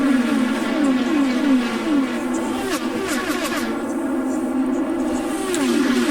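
Race car engines in an IndyCar video game race at the Mexico City circuit drone and rev loudly and continuously, with rising and falling pitch sweeps layered over a steady roar for the whole stretch.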